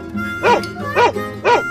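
A dog in an animal cartoon barks three times in an evenly spaced, loud, close sequence, each bark short and bright against a quiet background.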